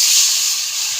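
Water poured into a hot koi fish curry gives a sudden loud hiss of steam that holds strongly for about a second, close up and alone.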